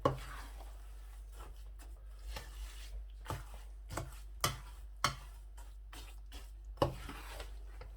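Moong dal sweet ingredients with almonds being stirred in a pan, giving soft scraping and intermittent sharp clicks of a spoon against metal at an uneven pace, close and fairly quiet over a low steady hum, with no speech.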